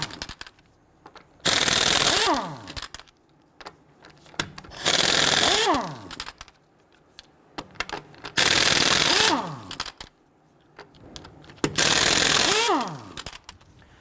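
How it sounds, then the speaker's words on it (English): Lug nuts on a Ford Explorer (2011–2019) are loosened and spun off with a power tool and a 19mm socket, in four loud bursts of rattling, each about a second long and separated by quiet pauses. "Using a 19mm socket, loosen and remove the lug nuts."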